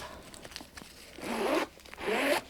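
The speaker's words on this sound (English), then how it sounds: "this just has a zip along the top" The zip along the top of a Coach Empire Carryall 34 bag being pulled, two loud, close rasping zipper runs separated by a short pause.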